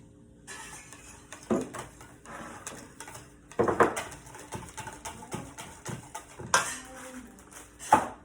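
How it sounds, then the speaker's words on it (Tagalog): Cookies and cream ice cream mixture is stirred in a bowl, with intermittent close scraping and clinking of a utensil against the bowl at a moderate level. "Mix muna natin guys. Haluin muna natin."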